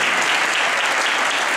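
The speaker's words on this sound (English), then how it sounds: "Give her a round of applause when she came in." A brief, loud, dense burst of crowd applause at the Aroni Awards 2015 ceremony as a singer is welcomed, continuous clapping with no clear individual claps.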